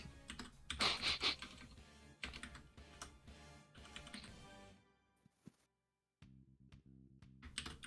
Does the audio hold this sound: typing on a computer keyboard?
yes